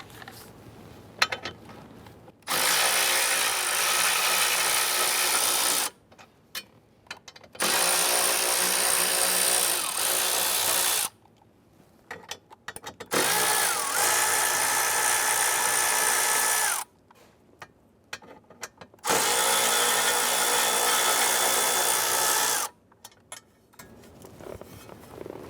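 A power tool runs in four separate bursts of several seconds each to back out four 10mm bolts from a metal plate on a 2005-2010 Chrysler 300, a loud close whirring with short quiet gaps between bolts.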